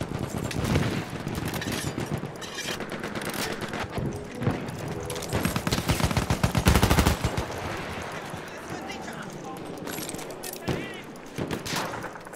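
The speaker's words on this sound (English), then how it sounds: "Feindliches MG!" Enemy machine gun in Battlefield 1 rattling almost nonstop, dense bursts layered with other battlefield gunfire and explosions, loud and sustained with a few brief lulls, with voices calling out underneath.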